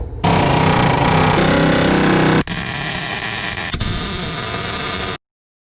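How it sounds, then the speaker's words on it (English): A pneumatic air hammer rattling continuously at close range, loud and harsh, briefly changing pitch before it stops abruptly. "Just gonna use the air hammer for everything now."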